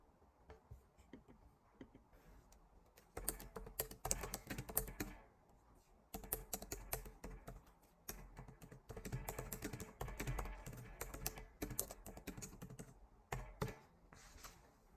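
A computer keyboard being typed on in close, quiet bursts of rapid key clicks, with a pause and then steady typing again through to the end.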